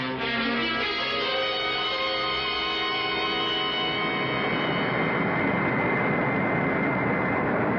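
Aircraft engine sound effect from a radio drama, a steady loud roaring drone that builds and holds throughout with no voices.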